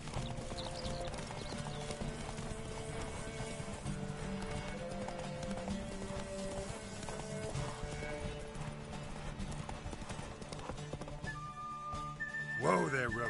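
Roach, the horse in The Witcher 3 video game, gallops with quick, steady hoofbeats under game music, ending in a sharp rising whinny.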